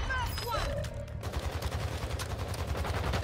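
Continuous rapid gunfire from Warzone Mobile on Rebirth Island, heard as a steady rattling stream of shots under a low rumble.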